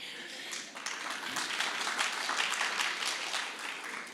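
A conference audience claps in steady, moderately loud applause, a dense spread of many hands that builds in the first second and continues evenly for several seconds with a faint murmur beneath it.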